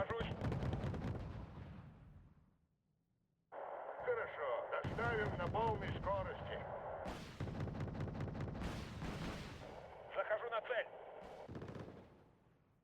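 Explosions and gunfire from a bomber run in the Wargame: Red Dragon video game come in bursts of deep booms and sharp cracks, with a radio-like voice and a few gaps of silence between the strikes.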